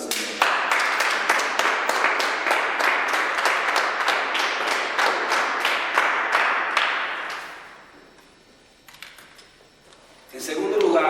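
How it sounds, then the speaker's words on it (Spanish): A church congregation claps together in a steady, fast rhythm for several seconds during a service, the sound loud and dense before stopping abruptly, followed by a few scattered claps and a brief return of noise. "Démosle palmas al Señor."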